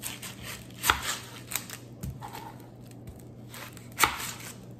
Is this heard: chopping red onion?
yes